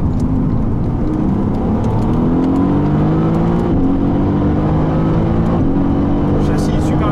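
A Mercedes-AMG GT R engine drones loudly and continuously on a race circuit, its pitch rising and shifting as it revs up, heard close and without pause.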